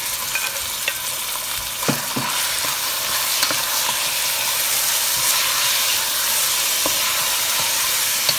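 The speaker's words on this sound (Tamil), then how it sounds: "சிக்கனையும் அதுக்குள்ளே ஆட் பண்ணி வதக்குறோம்." Chicken sizzling and being stirred in a pan with onion, green chilli, curry leaves and fennel for a Sri Lankan ground-spice chicken curry, with a steady frying hiss and a few faint utensil scrapes.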